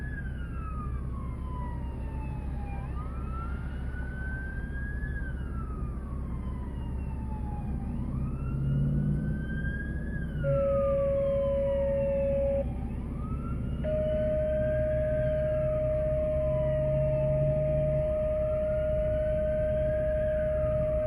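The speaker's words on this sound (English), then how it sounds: "I hear sirens." Emergency vehicle sirens wail in long rising and falling sweeps, with several sirens overlapping at times, followed by a steady high tone. They sound continuous and moderately loud over a low rumble throughout, on a Saturday night during a fire call to a house on Cherry Road.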